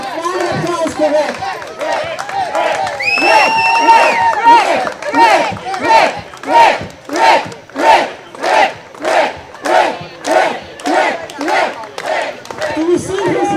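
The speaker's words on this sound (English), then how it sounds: "Let's put a round of applause for Rick." Protesters at a rally in a park cheer loudly at first, then settle into a rhythmic unison clap, about a dozen strong beats at a steady tempo, with shouts and voices mixed in.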